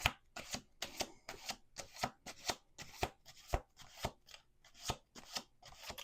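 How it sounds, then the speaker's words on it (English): A deck of tarot cards is shuffled by hand, producing a quick succession of crisp riffling snaps and slaps at an irregular rhythm, close up and fairly quiet. "We are going to do 2 more shuffles."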